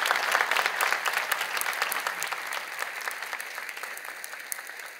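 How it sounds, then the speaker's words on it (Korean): Warm applause rises from a church congregation welcoming newly appointed Sunday school teachers at a ceremony, steady and sustained, then gradually thinning toward the end. "돌아서서 교우들에게 인사할 때 큰 박수로 격려해 주시기 바랍니다"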